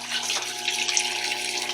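Steady rushing flow of water circulating through a Rinnai CHS199 Demand Duo tankless water heater during a service flush, a continuous close hiss with a faint underlying hum and no talking.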